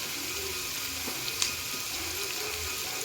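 Onions fry with salt in a pan for a paneer curry, giving a steady, even sizzling hiss with one faint clack partway through. No one talks.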